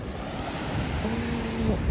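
Ocean waves wash onto a beach in the Bicol region, a continuous close roar of surf mixed with heavy wind buffeting the microphone.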